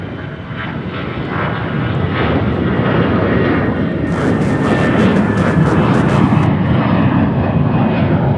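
Lufthansa airliner taking off from runway 36 right at Charlotte Douglas airport, a loud sustained engine roar building steadily and filling the scene, heard alone without talk.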